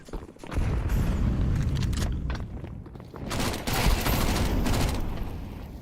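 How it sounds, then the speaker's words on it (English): A grenade thrown and exploding in Counter-Strike 2, amid dense, loud game action with booming blasts and rapid bursts of gunfire that continue throughout, briefly dipping before another heavy barrage. "I'm throwing a grenade."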